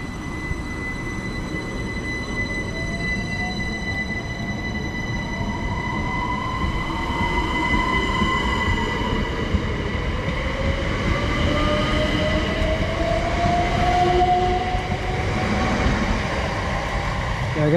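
A five-coach Class 377 commuter train runs through a station on a Surrey line toward London Victoria, a loud close rumble with rising and falling whine and faint wheel squeal, no talk.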